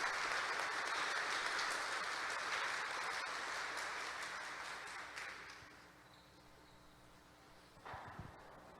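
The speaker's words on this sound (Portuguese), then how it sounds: "Uma salva de palmas para a palavra." A church congregation claps together after the Gospel reading at Sunday Mass, a dense sustained round of applause that thins and fades toward the end, followed by a brief scattered burst.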